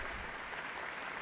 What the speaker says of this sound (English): I think you should applaud